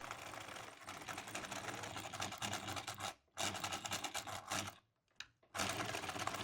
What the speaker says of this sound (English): I am sewing on the pockets